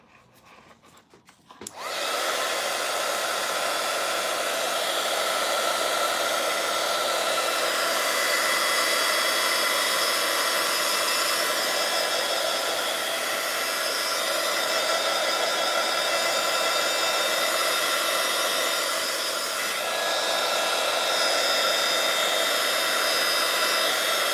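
A hair dryer blasts steadily at close range, drying wet paint on a rough drawing of a woodland elf; a brief quiet start gives way to a loud, continuous broadband whoosh that holds for over twenty seconds.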